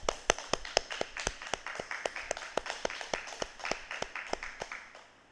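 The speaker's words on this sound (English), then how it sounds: "Please give him a round of applause." Church congregation at a parish Mass gives a deacon a round of applause: sparse, distinct handclaps in a steady loose rhythm, fairly close and moderately quiet, lasting about five seconds with no talking.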